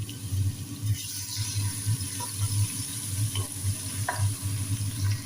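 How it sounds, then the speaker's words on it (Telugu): Ginger and garlic sizzle steadily in a pan of lightly browned onions for chicken majboos, with a continuous close frying hiss and occasional soft stirring clinks, no voices. "అల్లం వెల్లుల్లి కూడా వేగిపోయింది"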